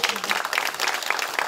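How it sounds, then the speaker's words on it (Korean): Audience applause follows a special lecture at a Gyeongbuk arts academy opening ceremony, dense and continuous clapping filling the room at close range for the whole moment. "네, 다시 한번 큰 박수로 부탁드리겠습니다."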